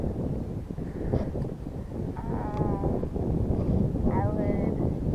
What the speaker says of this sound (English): now the breeze is picking up